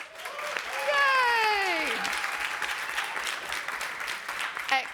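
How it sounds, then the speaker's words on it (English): A pitch event audience applauds in a sustained wash of clapping while a voice cheers and others call out over it, the clapping building early and holding steady to the end. "can we have another round of applause for the pictures?"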